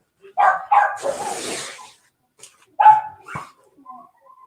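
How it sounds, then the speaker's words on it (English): A few household dogs bark and yip in short bursts in the background of an indoor crafting session, with quiet gaps between the barks and some faint noise. "Sorry if you hear my dogs in the background."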